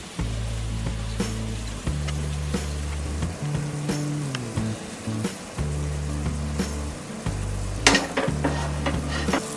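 Oil heats in a pan for an Indian tempering while making temple-style tamarind rice, giving a steady sizzle and crackle broken by occasional scraping and stirring clinks of utensils against the pan.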